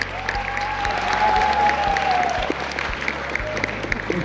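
An event audience applauds for a team, steady clapping from a crowd in a hall, with a whistle-like tone gliding over it.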